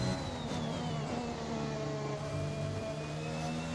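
A Formula 1 car engine in F1 2021 on the Bahrain Grand Prix circuit holds a steady high-pitched whine with a faintly shifting tone, continuous and moderately loud, with no speech.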